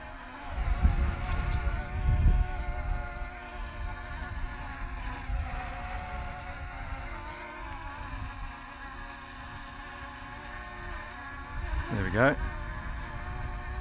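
Small Eachine EX5 GPS quadcopter drone hovering in gusty wind, a steady high whine of propellers with wavering pitch and a brief rising surge near the end, with wind buffeting low underneath.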